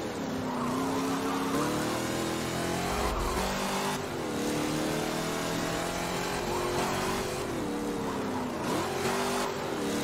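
A car with a 302 horsepower motor revs steadily and loudly for the whole stretch, its engine pitch rising and dipping in waves as it is pushed near the listener.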